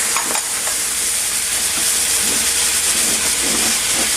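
Minced potato hitting a hot pan, producing a loud, continuous hissing sizzle with steam and occasional soft scraping from stirring, close and steady throughout.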